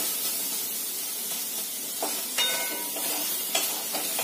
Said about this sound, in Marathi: टोमॅटो थोडासा वाफवल्यानंतर आपण असं थोडा वेळ परतवून घेऊया